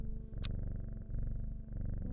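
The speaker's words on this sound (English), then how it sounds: "Pet the cat again." A cat purrs while being petted in the game Strange Horticulture, a close, steady, rhythmic rumble with a brief bright click near the start.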